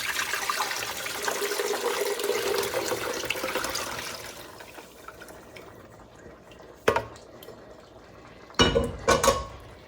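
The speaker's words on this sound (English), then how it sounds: "I'm going to strain this into the blender" Chili cooking liquid poured through a strainer into a blender, a splashing liquid pour fading out after a few seconds, followed by a few separate clinks of metal against the jug.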